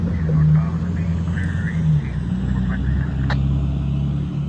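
A truck drives past in a small town near a railroad, giving a loud, low rumbling drone with a steady engine tone throughout, heard close by.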